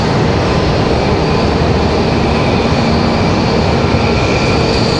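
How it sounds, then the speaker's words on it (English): Republic Airways Embraer E175 jet on arrival from LaGuardia at Raleigh-Durham airport, a steady loud broadband roar that holds constant throughout without voices. "our next arrival is this Republic Airways 5778 coming in from LaGuardia"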